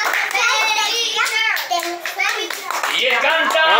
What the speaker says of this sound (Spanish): Un aplauso para él, un aplauso.